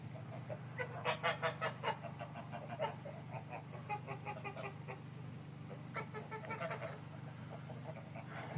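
Bursts of domestic geese honking on a farm in autumn, a cluster of loud calls early on then scattered quieter honks, with a low background hum.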